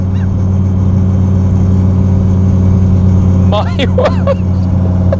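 A powerful drag-strip car, with power on par with a Chiron Super Sport, gives off a loud, close, sustained engine roar, and a man briefly exclaims over it near the end.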